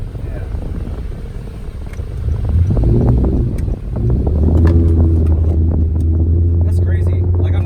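A 2013 Honda Accord Sport fitted with a sprint booster accelerates hard, its engine drone rising and holding strong under cabin and wind noise while occupants talk.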